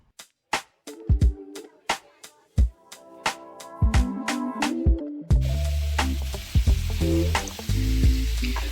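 Bacon hits a hot pan after a run of sharp percussive taps over background music, then settles into a steady, close crackling sizzle with louder bursts, no one speaking.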